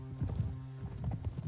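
Hoofbeats of a horse in Mount & Blade: Warband thud in a steady galloping rhythm over a low droning background, close and moderately loud, with no speech.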